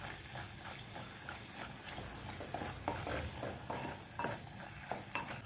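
Red chilli powder and turmeric sautéed in a pan for handi chicken, heard as a quiet sizzle under repeated scraping and clinking of a spoon stirring against the pan.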